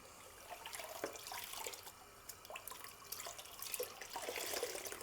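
Water sloshes and drips as an old dupatta is rinsed by hand in a basin during dyeing, giving soft splashes and trickles at close range with irregular bursts of movement, fairly faint overall.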